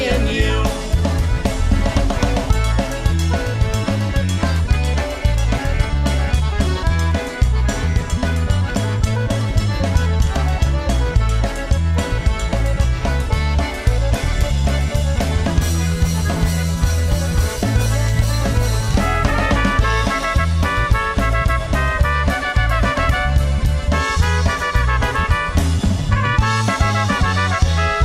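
Full-band music from a band plays loud and continuous for about half a minute, with steady drums and bass under layered instruments and no talking over it.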